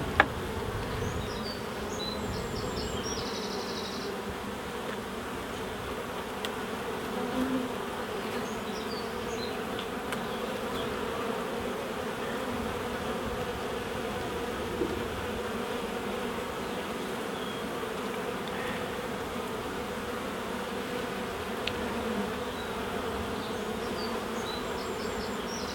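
Honey bees hum in a dense, continuous buzz around an open hive during a spring inspection, close and steady throughout with small clicks and shifts in pitch, and no talking.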